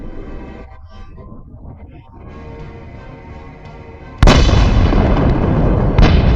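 A drone strike in the Ukraine-Russia war: after a few seconds of muffled, quiet rumble, a sudden loud blast erupts and leaves a sustained roaring wash of noise, with a second sharp burst near the end.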